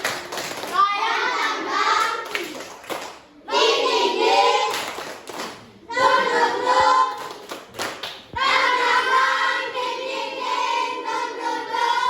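A school class performs a rhythmic spirit clap in bursts, hands clapping in patterned beats mixed with children chanting aloud in unison between pauses.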